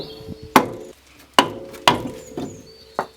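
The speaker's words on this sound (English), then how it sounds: "so we're going to give it a tap off with a rubber mallet" Rubber mallet blows knocking a seized brake disc off the front hub of a BMW E36, about five sharp, close knocks with a ringing metallic edge, spaced irregularly and heard alone.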